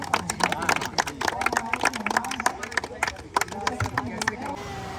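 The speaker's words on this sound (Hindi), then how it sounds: "पूरी टीम के लिए ताली हो जाए।" A crowd of children and adults claps together for a whole team at a school gathering for nomadic families' children, the applause steady and busy through the whole stretch, mixed with crowd babble.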